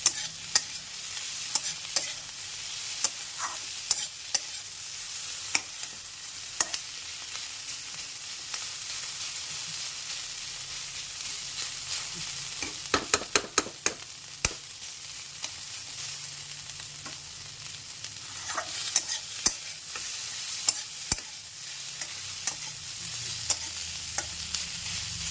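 Ivy gourd (kundru) curry stirred and fried in a pan, a steady sizzle with repeated scraping stir strokes and a burst of sharp clatters midway, close and continuous with no talk.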